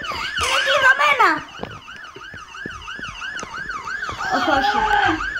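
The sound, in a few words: fire engine siren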